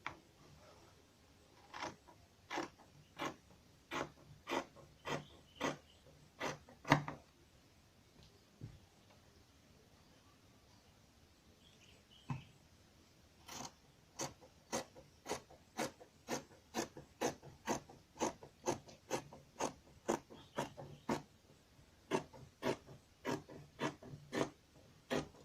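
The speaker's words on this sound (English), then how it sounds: "We are cutting it directly on our fabric." Cutting Ankara fabric directly, without a pattern, for a six-piece patch blouse: a steady run of close, crisp snips, a short pause partway through, then another long rhythmic series of cuts, with no voices.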